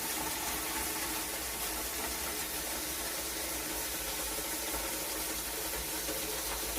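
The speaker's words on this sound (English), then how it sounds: "Officially my first time watering since being back from my work trip." Well water spraying from a hose onto a garden, a steady broadband hiss that runs unbroken and fairly close, with a low engine-like hum underneath and no talk.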